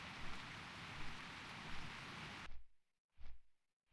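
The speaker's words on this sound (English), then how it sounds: "it's raining in the vanilla client as well" Steady rain in the vanilla client of World of Warcraft Classic hisses as a dense, even wash of noise, then cuts off abruptly partway through, leaving near silence broken by a few faint bursts.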